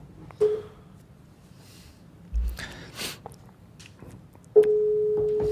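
Telephone tones from a call being placed, a short beep early on, then some faint clicks and rustles, and finally a steady sustained line tone that holds to the end.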